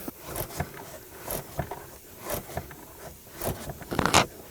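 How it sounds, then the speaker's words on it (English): Ratcheting wrench turning a bolt during front sway bar work on a 2007-2009 Saturn Aura, with quiet, uneven bursts of rapid clicking and scraping, close up, and no talking. "I'm going to switch to a ratcheting wrench now"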